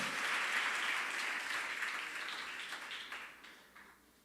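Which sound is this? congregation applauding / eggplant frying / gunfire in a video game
congregation applauding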